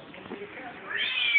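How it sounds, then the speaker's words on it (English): A kitten meows from underneath a parked car, one drawn-out, rising cry that grows louder toward the end, heard close and alone. "Damn cat under the car."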